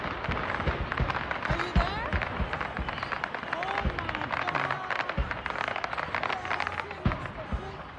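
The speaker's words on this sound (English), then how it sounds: "You could just hear fireworks in the smoke." Fireworks crackling and popping in rapid, irregular bursts after a fireworks store explosion, heard from a distance with voices talking over them.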